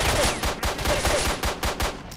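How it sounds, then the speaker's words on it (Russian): Rapid repeated gunfire from STALKER: Shadow of Chernobyl, a steady run of about ten loud, sharp shots in quick succession with brief gaps, close and dominant, no talking. "Мне приходится вот так по ним спамить, потому что меткими выстрелами ничего не получается."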